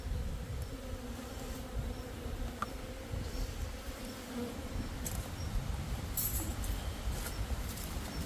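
Honeybees swarm around their hives in October as they prepare for winter, a dense, steady buzz filling the whole stretch with faint clinks and outdoor noise underneath.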